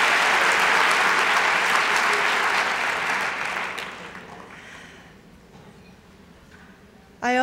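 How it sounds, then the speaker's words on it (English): A conference crowd gives sustained, loud applause that holds steady for several seconds, then gradually thins and fades to a quiet room tone. "Let's give a round of applause to all the people who take care of us"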